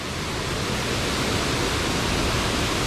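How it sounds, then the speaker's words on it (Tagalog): The waterfall at Daranak Falls roars as a steady, loud, broadband rush of falling water, unbroken and constant throughout. "Waterfalls."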